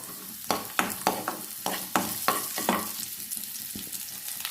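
Cashew nuts fry in a pan for lemon rice, with a steady sizzle broken by a string of sharp stirring scrapes close by. No one speaks.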